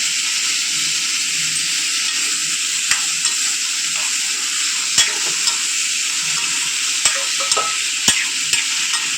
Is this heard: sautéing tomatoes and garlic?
yes